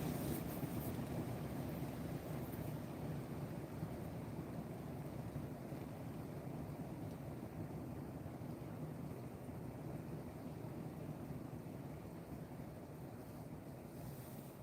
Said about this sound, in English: The wind's picking up some.